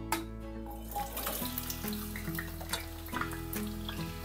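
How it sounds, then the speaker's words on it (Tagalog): Sliced potatoes fry in a pan as a continuous crackling, watery sizzle with a steady low hum beneath and scattered soft pops, moderately quiet and close. "I-fry lang muna natin itong hiniwa nating patatas."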